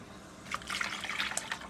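Water poured into an emptied Eagle Brand condensed milk can to rinse it out, a close, steady splashing and gurgling pour lasting just over a second.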